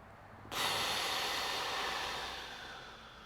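A single long breath during an abdominal exercise routine starts abruptly and is held as a broad, airy hiss, close to the microphone and slowly fading over a few seconds.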